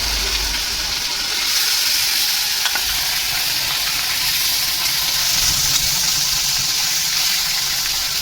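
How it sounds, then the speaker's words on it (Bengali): Rohu fish frying in oil in a wok, a steady, dense sizzle that holds close and loud throughout with no voices over it. "প্রথম ধাপে মাছগুলো ভাজাভাজি হচ্ছে।"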